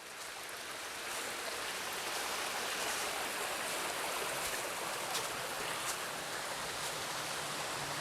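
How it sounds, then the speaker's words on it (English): A small, narrow waterfall on the Mt Ascutney trail in Vermont pours steadily, a soft, constant hiss of falling water heard close by with no talking. "Maybe this is the waterfall."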